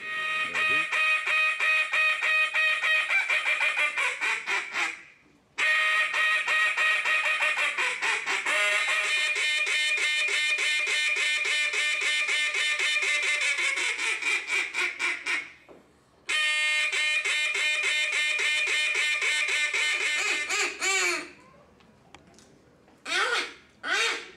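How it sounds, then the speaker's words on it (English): Duck calls are blown at a duck calling competition: long, loud, close runs of rapid quacking with a few short pauses, ending in choppy bursts of quacks. "You got all these duck calls."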